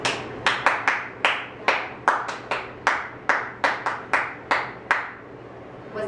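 Hands clapping the Cuban habanera rhythm, sharp claps in a repeating syncopated pattern over a few seconds, fairly close and alone against a low steady hum.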